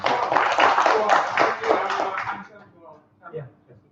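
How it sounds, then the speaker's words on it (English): Audience applause at a signing ceremony, a dense burst of clapping that fills the first two and a half seconds, then thins out into scattered claps and murmured voices. "We give applause to Mr. Hugo"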